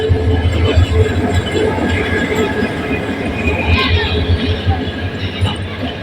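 A campus train stands at a crowded station, its continuous heavy rumble loud and near, with a brief screech midway while people talk throughout.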